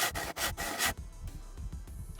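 A SCUM video game character saws wood, several loud rasping strokes at close range, then the sawing stops abruptly and leaves a faint scratchy rustle.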